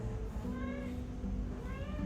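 A pet cat meows repeatedly indoors, several plaintive, tonal cries over a constant low background hum, sounding close and fairly clear.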